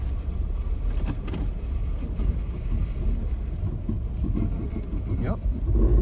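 A 4x4 pulls slowly away on snow and ice, with a low rumbling engine and crunching tyres close by, buffeted by wind noise on a winter driving course.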